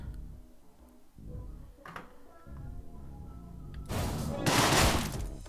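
Gunfire in the Deadbolt video game arrives as a loud burst near the end, after quieter game sounds and a few faint clicks.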